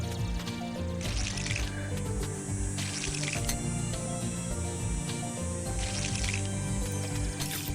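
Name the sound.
watering plants with watering can in video game Monster Harvest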